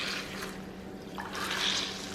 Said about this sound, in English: Into the hot water, where it's super absorbent and squishy. Squeeze it a few times.